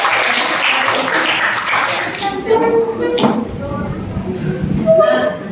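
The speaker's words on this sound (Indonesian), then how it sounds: "Oke, tepuk tangan." A burst of clapping fills the first couple of seconds, then fades as a voice speaks over lingering taps and thumps.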